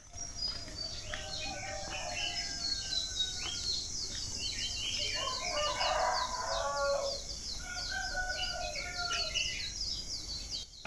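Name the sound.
roosters crowing and birds singing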